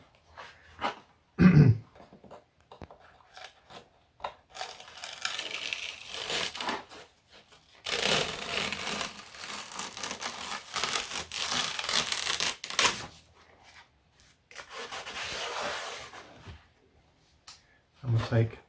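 Peel ply is torn away from the side piece of a de Havilland Chipmunk aircraft, making bursts of crackling, ripping rustle at close range, separated by quiet gaps, with a person speaking at times.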